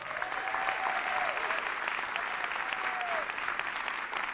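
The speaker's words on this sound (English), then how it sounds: "Let's give him a round of applause." Audience at a college state-of-the-college address gives a round of applause, dense steady clapping throughout, with a faint voice drifting over it.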